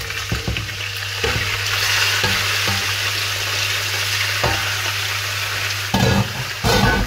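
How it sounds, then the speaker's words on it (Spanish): Meat sizzles steadily in hot oil in a pan while making carcamusas, a loud continuous hiss with a few brief clatters and bumps from the pan. "Bien, pues tenemos ya el aceite un poco caliente. Ponemos la carne con cuidado."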